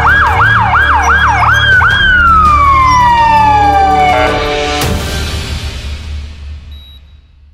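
An ambulance siren wails loudly and close at an accident scene, its rising and falling cycles repeating before one long tone slides downward, followed by a sharp thud and fading noise.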